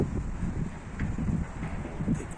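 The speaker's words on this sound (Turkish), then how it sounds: "Rüzgar da var bayağı." Steady wind buffets the microphone with a low, rumbling roar, continuous and fairly close, with no other clear sounds, during a tumbler pigeon flight.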